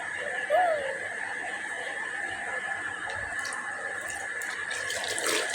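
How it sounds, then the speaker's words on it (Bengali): Water runs and splashes steadily while a cow's udder is washed before milking, with faint clucking from chickens nearby. "আমি আস্তে আস্তে ধুয়ে নিতেছি যাতে ময়লা না থাকে"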